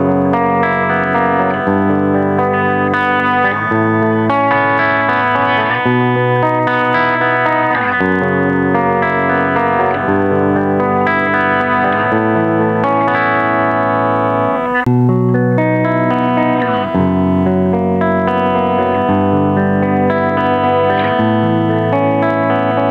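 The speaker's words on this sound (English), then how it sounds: "let's hear a clean tone first, with a battery installed, so this is the active mode, and let's start with the bridge pickup" Harley Benton Amarok electric guitar on a clean tone through the bridge pickup in active mode, played alone as sustained chords and melodic lines, loud and close with a light effects shimmer.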